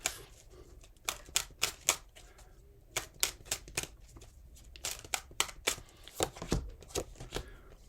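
Tarot cards are shuffled, drawn and laid down for a past, present and near future reading, giving a quick run of crisp, close slaps and flicks in uneven bursts.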